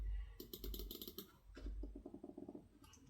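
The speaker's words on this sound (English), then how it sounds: "The side buttons, very clicky." Side buttons on a Trust GXT 929W Helox wireless gaming mouse click in quick, rattling bursts. Two separate runs of crisp, close clicks sound alone, with a short pause between them.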